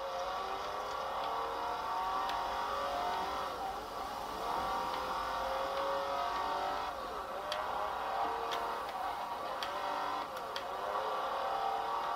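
A car drives in the Forza Horizon 4 video game, its engine droning steadily and rising and falling in pitch as it accelerates and shifts, with faint ticking clicks on top and no talking.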